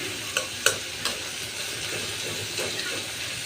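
Onions frying in a pan with a steady, close sizzle, a few sharp spoon clicks early on as they are stirred, then continuous frying hiss.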